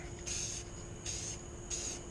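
Three separate hissing blasts of spray paint from an aerosol can, each about half a second long with short pauses between, as a light coat goes onto a car hood, close and steady.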